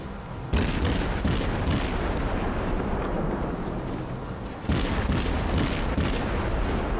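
Naval gunfire in the World of Warships video game: two heavy booming broadside salvos about four seconds apart, each followed by a long rumbling roar that fills the clip.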